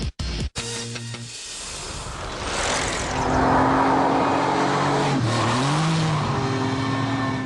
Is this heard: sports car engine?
yes